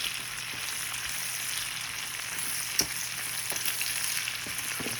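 Bacon fries in a pan, a steady close crackling sizzle with scattered pops and occasional stirring, no voices.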